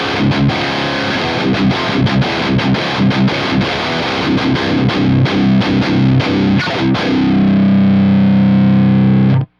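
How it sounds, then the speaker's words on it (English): Electric guitar through a Boss Super Overdrive pedal into a Revv G20, loud, dense driven chords in quick chugging strums, ending on a sustained ringing chord that cuts off. "this is the Super Overdrive from Boss on the G20."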